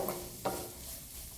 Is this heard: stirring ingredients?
yes